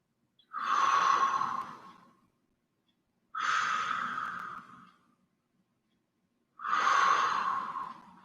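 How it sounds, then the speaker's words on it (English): Three slow, relaxed breaths, each a soft airy exhale lasting over a second with quiet gaps between, close and calm during a neck-relief breathing exercise focused on effortless inhales. "Focus on the subtlety of the breathing"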